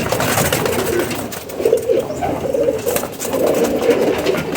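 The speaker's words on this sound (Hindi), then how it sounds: "देख रहे दोस्तों कैसे कैसे नायाब कबूतर यहाँ पे पड़े हुए हैं।" A loft of rare pigeons cooing, several soft throaty coos repeating near the microphone over a low rustling background, no speech.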